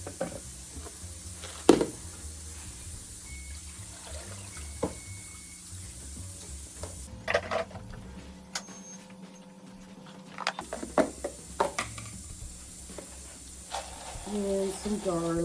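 Water pours from a tap into a roaster pan for homemade bone broth, a steady hissing stream with occasional clanks and a brief pause midway.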